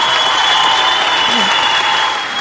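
Canned applause sound effect played into a live online show, a loud, uniform burst of clapping and crowd cheer with a steady tonal whine, tapering slightly at the end.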